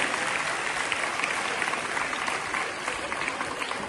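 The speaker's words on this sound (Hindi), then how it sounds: "बच्चों एक बार जोरदार तालियों से मैम का स्वागत और अभिनंदन कीजिए।" Schoolchildren at a girls' college folk dance workshop applaud warmly to welcome a guest teacher, a steady wash of many hands clapping at moderate volume, a little distant and even throughout.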